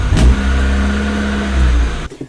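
A car engine roars and revs loudly and steadily for about two seconds, then cuts off abruptly, leaving a few faint clicks and mechanical sounds.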